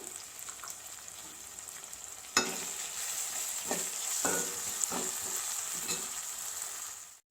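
Onions fry in a pan for Telangana-style tomato dal, a steady sizzle with a few sharper stirring scrapes partway through, fairly quiet and close.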